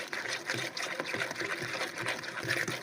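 About 50 ml of oil poured into cake batter, a soft liquid trickle and gurgle that is quiet and close, continuing for a few seconds with slight rises and dips and no voices.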